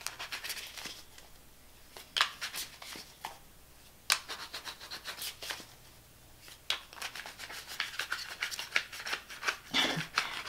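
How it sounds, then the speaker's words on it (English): A new tarot card deck is being shuffled, giving faint, close riffling and rubbing bursts with sharp card snaps in irregular clusters and quiet pauses between them. "I've got this new deck and I'm having a hard time shuffling."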